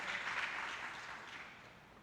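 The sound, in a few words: church congregation applauding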